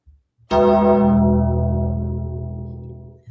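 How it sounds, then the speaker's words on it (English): A single deep bell toll rings out loudly and clearly, then lingers in a long ringing decay; it is the bell from The Undertaker's wrestling entrance. "The Undertaker's bell, you drank."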